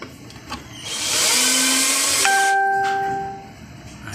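A screw is driven through 1/8-inch aluminum with a power drill, installing an aluminum door for hanging cabinets. There is a loud steady whirring grind of about two and a half seconds with a rising pitch shift midway, then it stops.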